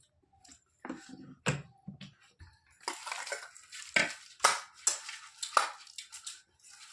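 Ripe wood apple (kodbel) being mashed with oil by hand in a bowl makes a series of soft, irregular squishing and scraping clicks, close and fairly quiet, with short pauses between strokes.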